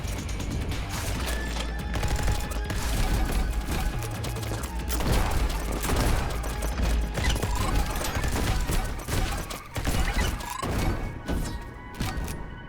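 Rapid gunfire blasts enemies in the first-person speedrun game Neon White, a dense, loud, unbroken barrage of shots and clattering mechanical impacts with no voices.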